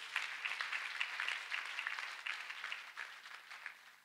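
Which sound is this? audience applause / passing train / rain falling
audience applause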